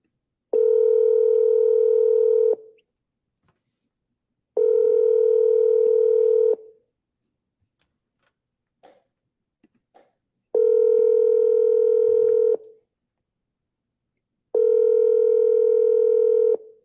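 Outgoing telephone ringback tone on a call to a client, four clear, loud two-second tones spaced evenly with silent gaps between them and a few faint clicks.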